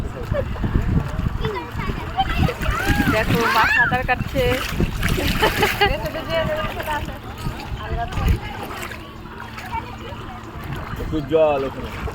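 People splash while swimming and bathing in the Ganges river, with choppy, uneven water sounds close by. Voices, including a child's, talk over the splashing throughout.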